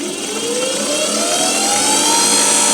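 A treadmill motor repurposed to drive a 9x20 lathe whines steadily and loudly on its own, its pitch climbing smoothly as the speed is brought back up.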